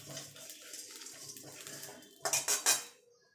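Dried red chillies, whole cumin, fennel and black peppercorns dry-roasted in a pan. A metal spoon scrapes and clinks against the pan in a run of quiet strokes, then a few sharper, louder clanks close by near the end.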